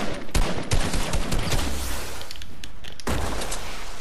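Sharp hunting-rifle sniper shots crack out in a mobile battle-royale video game, several loud broadband bursts spaced irregularly over a noisy, busy game mix with a few smaller thumps between them.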